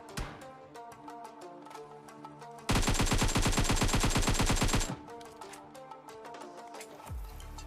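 Rapid automatic gunfire in a close-range gun fight around shipping containers in the battle-royale game PUBG Mobile, a loud dense burst of about two seconds rising over game background music, then dropping away.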